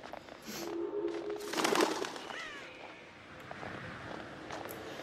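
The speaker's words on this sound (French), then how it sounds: "J'ai vu un pigeon qui s'envole." Video game pigeons coo softly, then a brief burst of flapping wings as one takes off, followed by light bird calls and faint ambient noise.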